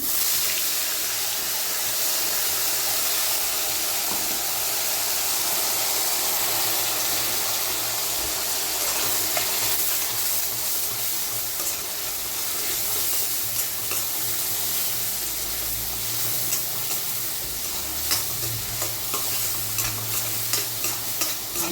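Ground onion paste fries in hot oil for an egg gravy, a steady close sizzle and hiss with occasional stirring scrapes running throughout, no voices.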